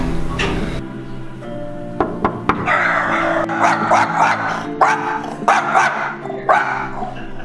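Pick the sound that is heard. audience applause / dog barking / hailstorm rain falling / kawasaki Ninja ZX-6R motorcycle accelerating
dog barking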